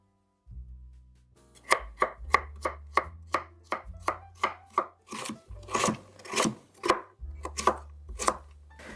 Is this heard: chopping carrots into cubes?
yes